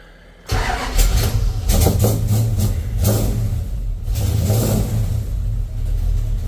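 A Dodge D100 pickup's 318 V8 with a Borla exhaust fires up and revs repeatedly, deep and loud close by, with uneven throttle blips in a steady rumble.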